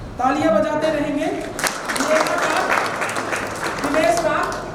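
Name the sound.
audience applause at anniversary celebration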